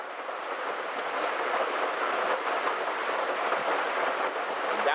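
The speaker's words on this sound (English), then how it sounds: "You can see the rain is beating down." Heavy rain pouring down outdoors in a steady, dense hiss with no breaks, loud and constant throughout, with no voices over it.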